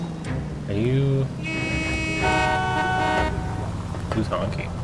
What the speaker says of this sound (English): Who's honking?